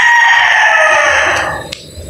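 One loud gamecock rooster crow on a game farm, close by, long and strained, fading out at the end.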